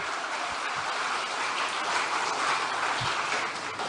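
Crowd applause at an Indonesian political gathering, a steady dense wash of clapping at moderate level running the whole time with no clear pause.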